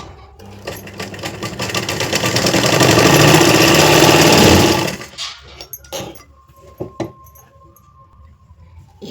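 Sewing machine stitching a blouse runs in one loud, steady burst for about five seconds, then stops, leaving a few light clicks and handling knocks.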